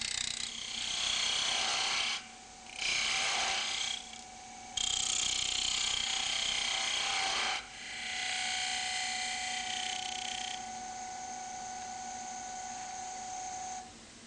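A wood lathe with an eccentric chuck runs while a tool cuts a cove, giving three rough bursts of cutting noise that stop and restart, then settle into a steady motor hum with a faint whine, close up and with no talking.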